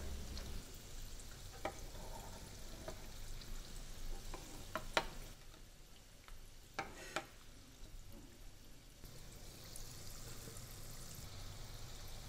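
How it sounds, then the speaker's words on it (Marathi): Potato vadas for vada pav deep-frying in hot oil, a steady soft bubbling sizzle with occasional pops and spoon scrapes, close and fairly quiet with no talk. "सोनेरी तांबूस रंगावर तळून घेऊया"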